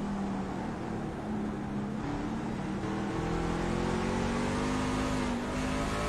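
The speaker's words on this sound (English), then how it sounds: "Listen to how hard he has to get off that throttle when he goes in that corner and how much he's braking." A race truck engine at Martinsville Speedway drones steadily at a distance, with its pitch sliding down and then climbing back as the driver lifts off the throttle and brakes into a corner.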